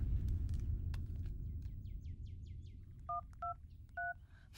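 Telephone keypad tones sound as three short, clear beeps in quick succession. Faint chirping is heard behind them, over a low, steady background rumble.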